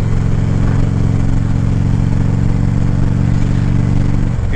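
Motorcycle riding at night, its engine droning steadily and loudly up close with a dense harmonic hum and rumble that holds throughout, easing slightly at the very end.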